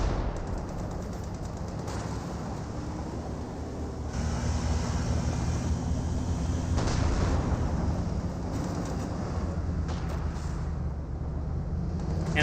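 Heavy cannon fire from a Sturmtiger in the game Company of Heroes 2 with the Spearhead mod, deep booming shots with rumbling battle noise around them, steady and fairly loud, with no talking.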